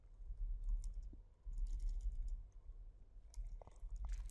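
Keys clatter on a computer keyboard in short irregular bursts of close, soft clicks while text is entered into a text editor, with brief pauses between runs and no talking.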